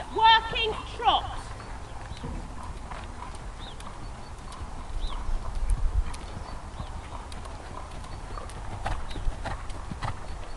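Horse trotting through a dressage test arena, steady rhythmic hoof clip-clops with an occasional snort, while a voice calls out the test movements over it.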